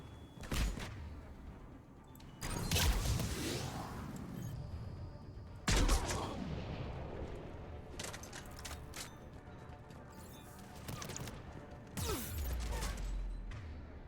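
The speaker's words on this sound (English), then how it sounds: "So many frickin' grenades." Grenade explosions and gunfire in a video game: a few heavy booms spaced several seconds apart, each trailing into rumbling decay, with scattered shots and mechanical clatter between, fairly quiet overall.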